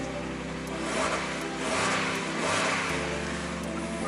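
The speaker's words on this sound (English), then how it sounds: "So let's start the car for the first time." A Mazda MX5 idles steadily with a newly fitted catalytic converter and midpipe, a continuous mid-pitched engine hum with slight swells, heard up close with no talking.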